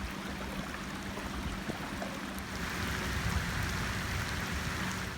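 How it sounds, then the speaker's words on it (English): Heavy rain pours down while out bass fishing on the water, a dense, steady hiss that swells slightly louder partway through, with no voices. "It's starting to pour."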